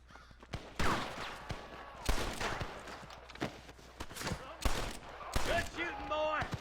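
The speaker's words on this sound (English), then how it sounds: "Good shooting, boy." Gunfire in Red Dead Redemption cracks out in scattered shots of uneven spacing, some sharp and near, others softer, with voices and birdlike calls mixed in among the reports.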